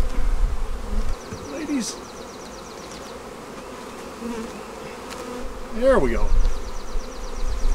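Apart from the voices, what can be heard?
honeybee swarm buzzing around a hive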